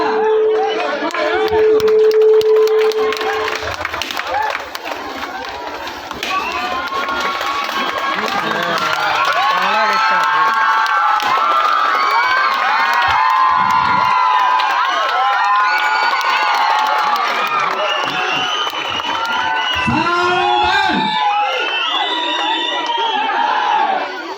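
Large crowd cheering, shouting and clapping at the unveiling of a statue of Sangolli Rayanna on Independence Day, a loud continuous roar of voices with children's shouts and applause, a tone sounding briefly at the start.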